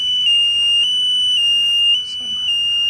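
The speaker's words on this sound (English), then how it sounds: "it still alarms." A steady, piercing electronic alarm tone sounding continuously at close range, with a faint low hum beneath.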